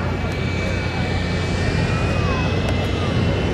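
Aircraft engine drone from the Geico Sky Typhoon flying high over an air show, a steady broad roar with a thin whining tone layered in, heard under a loud announcer's commentary.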